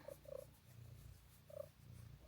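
A female cat purring softly and steadily in rhythmic pulses, close and quiet, with a few faint higher chirps over the rumble.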